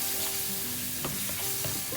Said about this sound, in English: Adding the masala to the lightly caramelized onions and the ginger garlic paste.